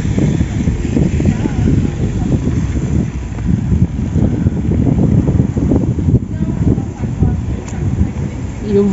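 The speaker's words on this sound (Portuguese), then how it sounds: "E o vento continua." Wind blows along a town street in Gramado, Brazil, on a cold May evening, making a steady loud rumbling gust noise that buffets the microphone with low fluttering bursts throughout.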